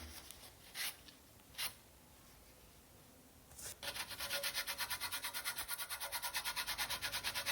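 Fine sanding of glued wooden parts for an F1N indoor hand-launch glider; a few brief strokes, then steady rapid back-and-forth rubbing, quiet and close.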